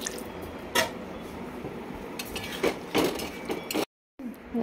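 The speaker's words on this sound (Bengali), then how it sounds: "আলুটা এবার ভালোভাবে কষা হয়ে গেলে এর মধ্যে আমি একটু গরম জল অ্যাড করব।" Hot water is poured into a pan of frying potato curry, giving a sputtering, splashing pour with a few sharp clinks and drips over a steady background hiss, close by.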